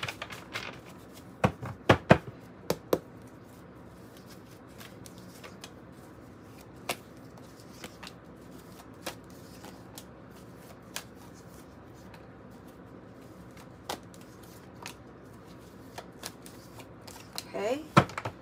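Tarot and oracle cards being pulled out and shuffled, with soft papery riffles and sharp snaps clustered near the start and end and sparse single flicks in between, close and quiet over a low steady hum.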